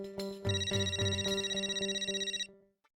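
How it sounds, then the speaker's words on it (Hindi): A telephone rings in a rapid electronic trill for a couple of seconds, close and clear, then cuts off. "तो माधवी फोन क्यों उठा रही है?"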